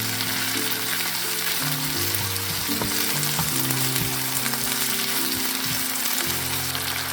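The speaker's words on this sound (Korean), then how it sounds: "재료를 굴소스와 함께 볶아주세요." Cabbage and other ingredients stir-fried with oyster sauce in a pan, a loud continuous sizzle with steady scraping and tossing throughout, and no voices.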